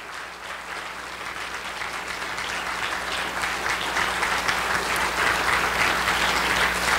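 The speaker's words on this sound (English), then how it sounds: "Let's give the Lieutenant Governor a big round of applause for supporting this cause." At a Convention of States gathering in Texas, an audience gives the Lieutenant Governor sustained, dense applause that builds slightly in volume and continues steadily for the full seven seconds.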